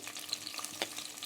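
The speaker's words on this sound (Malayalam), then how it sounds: "ഉലുവയൊക്കെ ഒന്ന് നല്ല പോലെ ചൂടായി വരുമ്പം ചെറിയുള്ളി ഇട്ട് കൊടുക്കണേ" Shallots sizzle steadily in hot oil with fenugreek seeds, a dense close crackle with small spits and pops, no voices.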